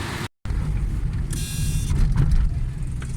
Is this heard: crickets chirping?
no